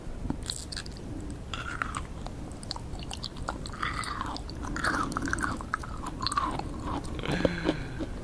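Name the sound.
woman loudly smacking lips while chewing leaves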